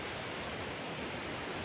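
Waterfall on the Dard stream at Baume-les-Messieurs, a tufa cascade heard as a steady, even broadband rush of falling water, faint and unbroken with no voices.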